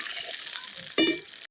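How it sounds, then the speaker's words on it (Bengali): Potato pieces fry in hot oil for a pakora-style snack, giving a steady, close sizzle with a brief louder crackle near the end before it cuts off. "আলুগুলো লাল লাল হয়ে ভাজা হয়ে গেছে, ভাজতে ভাজতেই হাফ সেদ্ধ হয়ে গেছে"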